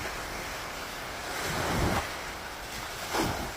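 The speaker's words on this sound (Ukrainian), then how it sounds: "Ось так виглядає Адріатичне море." Adriatic Sea waves wash onto the shore under steady, gusty wind rumble, with two soft surges of surf swelling and fading.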